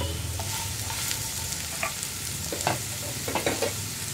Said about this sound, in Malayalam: നമ്മുടെ വെളിച്ചെണ്ണ ചൂടാവുമ്പോൾ നമ്മൾ കട്ട് ചെയ്ത് വെച്ചിരിക്കുന്ന സവോള ചേർത്ത് കൊടുക്കാം സവോളയുടെ കൂടെ തന്നെ പച്ചമുളകും